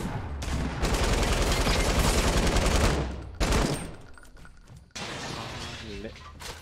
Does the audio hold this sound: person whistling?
no